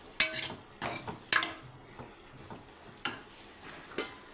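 Curry with ginger-garlic paste stirred in a pan, a spoon clanking and scraping against the metal in several sharp strokes over a faint background sizzle, with no voices.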